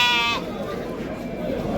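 A lamb lets out one short, clear bleat at a busy sheep market in Taraz, followed by a voice and general crowd murmur close by.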